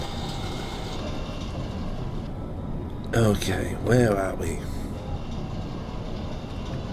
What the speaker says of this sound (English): the train car is still detaching